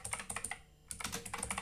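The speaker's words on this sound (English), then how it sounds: "Okay, I'm going to type this myself then." Rapid, close typing on a computer keyboard, with bursts of clacking keystrokes, a brief pause, and then a fresh run of taps.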